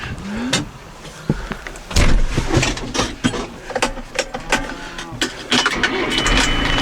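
A vehicle engine cranks and starts up on a farm amid clunks and rattles, then settles into a rough idle. It sounds close and cluttered, with mixed mechanical noise throughout.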